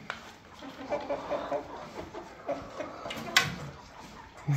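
Jumbo Cornish Cross meat chickens at 12 weeks give soft, low clucks in a short run, then a sharper squawk, fairly close over quiet farm background.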